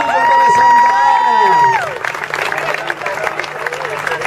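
At a dance exhibition, a held musical tone gives way to a burst of audience applause and cheering for a dance team. The clapping stays dense and lively, with crowd shouts mixed in.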